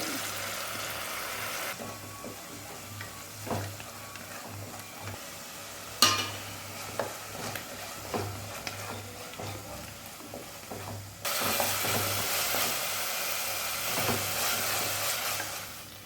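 Onions sautéing with ground ginger-garlic paste for a mushroom gravy, giving a steady low sizzle under occasional spoon scrapes and taps against the pan, with the frying growing louder near the end.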